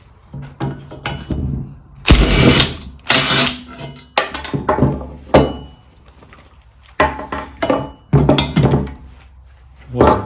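A spanner unbolts the ball hitch from a Bolens sleeve hitch, with repeated metallic clanks, ratcheting and knocks coming in bursts with short pauses, close and fairly loud.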